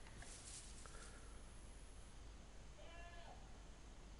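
Faint, distant goat bleats in a video game outdoor scene, two short wavering calls over a steady background hiss, with no talk.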